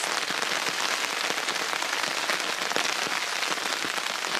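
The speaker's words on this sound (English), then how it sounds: "The rain is coming down in sheets" Heavy rain drums on a tarp outdoors in a dense, constant hiss with countless sharp patters, loud and unbroken throughout, with no voices.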